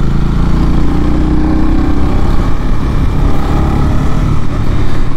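A Honda CB300R single-cylinder motorcycle engine running while riding, a loud continuous drone with a steady low throb and wind rush, close up.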